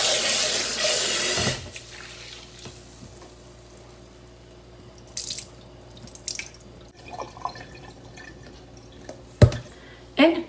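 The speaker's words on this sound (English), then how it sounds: "First, wash the rice. Rinse the rice." Rice being washed and rinsed in water for taimeshi, a short burst of running, splashing water at the start followed by quieter scattered drips and clinks of grains and hands in the bowl.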